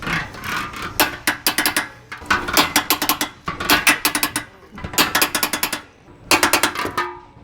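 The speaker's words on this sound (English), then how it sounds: "So we'll go ahead and get those all torqued down" A ratchet torques trailer hitch bolts on a Jeep Wrangler Unlimited Rubicon, fitting a Mopar factory hitch, in repeated bursts of fast clicking separated by brief pauses, close and clear with no talking.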